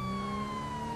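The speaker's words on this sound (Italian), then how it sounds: "togliamo un attimo le sirene" Police car siren in GTA 5, a steady, loud electronic wail holding through the second with a low engine rumble beneath and no voices.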